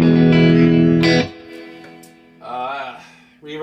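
An electric guitar through a 1978 Fender Twin Reverb ultralinear amp, sustained chords with reverb, then a gap and shorter strummed phrases.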